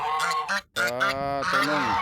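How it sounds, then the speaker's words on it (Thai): Several geese honk loudly and close by in quick, overlapping bursts, a short break and then a longer run of harsh honks. "มีห่านอยู่5 ตัว"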